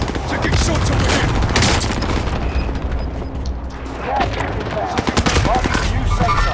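Call of Duty gunfire crackles as dense, loud bursts and booms through most of the stretch, with a pause midway before more sharp shots near the end; a voice talks over the battle.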